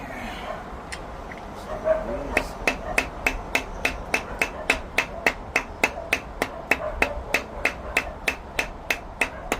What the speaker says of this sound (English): This isn't a great hammer.